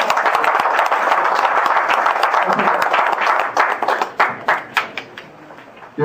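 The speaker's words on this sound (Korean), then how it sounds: "이거 박수 좀 부탁드리겠습니다." An audience in an auditorium at a maritime arbitration association's founding general meeting applauds steadily, the clapping breaking into scattered individual claps as it dies down.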